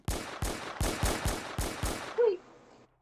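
Gunfire in a video game: six sharp, loud shots in a steady rapid rhythm, each with a short decaying tail, followed by a brief tonal blip as the shooting stops.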